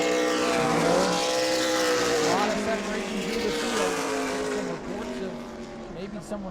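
Super Late Model race car engines roar and whine as several cars speed around the New Smyrna track, pitch rising and falling, with a commentator talking over them.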